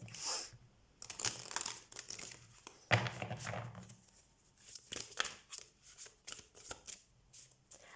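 Tarot cards shuffled by hand in several close, soft bursts of papery riffling and flicking, quiet overall with brief pauses between.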